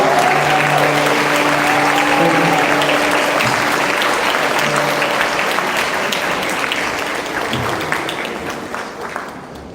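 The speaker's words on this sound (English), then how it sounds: "A big round of applause." An audience at an international school graduation ceremony claps loudly for the new graduates, a full sustained round with a faint tone underneath early on, slowly thinning and fading toward the end.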